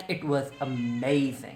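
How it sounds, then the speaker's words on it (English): A house cat meows several times, with drawn-out, wavering cries that rise and fall close by. A person speaks briefly at the same time. "that's my cat meowing"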